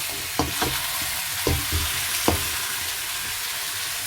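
Onion and garlic, added after ginger, stir-fry in a hot pan with a steady close sizzle, broken by a few soft scraping knocks of a spatula stirring, and no voices.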